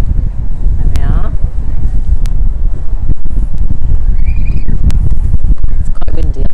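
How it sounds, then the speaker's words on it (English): Strong wind buffets the microphone on a seafront bridge, with loud gusty rumbling mixed with passing traffic and a voice talking over it. "It's quite windy up here on the bridge."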